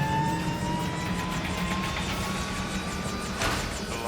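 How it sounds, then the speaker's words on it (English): Rescue aircraft Lifesaver 23 taxiing for departure on runway 36, its engine a steady, fairly loud drone with a faint whine running throughout and no voices. "The Lifesaver 23 is taxiing for departure runway 36."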